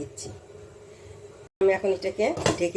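A pot of coconut-mustard ridge gourd being covered while it cooks: a faint clink of the lid and utensils, then a brief pause before close talking resumes.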